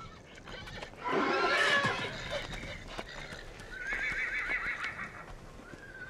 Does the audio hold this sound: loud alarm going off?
no